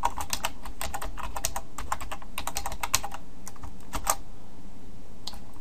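Rapid typing clatters on a computer keyboard, close and crisp, in quick bursts that slow and thin out toward the end.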